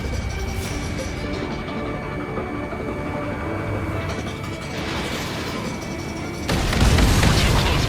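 An explosion in the flight combat game Ace Combat 7 erupts as a sudden loud broadband roar late on, over a continuous mechanical jet-engine drone that runs underneath the whole stretch.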